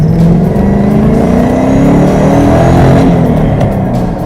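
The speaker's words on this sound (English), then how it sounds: "Gotta love that V8 torque." A Ford Mustang S550 with a V8 engine accelerates hard on a racetrack during a track day. Its loud, steady engine roar holds for about four seconds and its pitch rises as it revs up. No one speaks.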